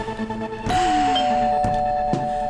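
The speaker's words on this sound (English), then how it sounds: "You don't have to ring the bell." A two-tone ding-dong doorbell rings at a radio studio, followed by a couple of faint knocks or clicks while the bell's tone fades slowly.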